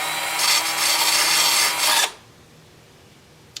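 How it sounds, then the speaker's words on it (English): Sandpaper rubbing on a turned wooden bowl, a steady loud rasping scrape for about two seconds, then stopping abruptly into near silence with a small knock at the end. "I'll sand them lightly, probably like this."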